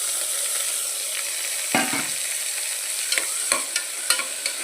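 Chopped tomatoes fry in hot oil for palak rice, a steady close sizzle broken by several sharp crackles and stirring scrapes, with no voices.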